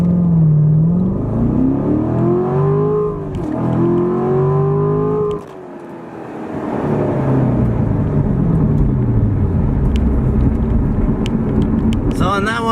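A C7 Corvette Grand Sport launches from a standstill with traction control off, its engine revving up through loud rising pulls with a brief dip near the middle, the drone staying near and loud throughout.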